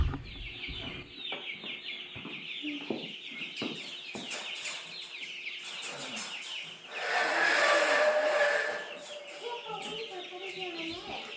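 Several chickens cluck and squawk nearby while being moved from a brooder to a coop, with a burst of louder rustling and flapping in the middle.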